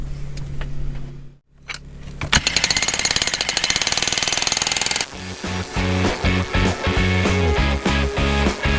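A jackhammer chisels ore inside a gold mine, starting after a brief pause as a loud rapid hammering, then shifting to a heavier, choppier pounding with short breaks.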